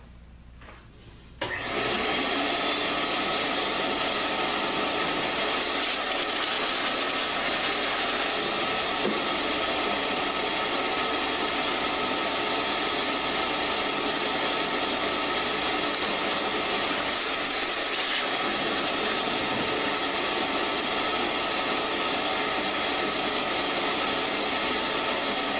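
A vacuum cleaner in a woodworking shop, after work on a table saw cart, switches on after a quiet moment and runs at a loud, steady whine for the rest of the stretch, alone without talk.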